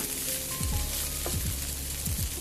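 Kampung-style fried rice with water spinach being stir-fried in a hot pan, a steady loud sizzle with the scrape and clatter of a spatula stirring through it.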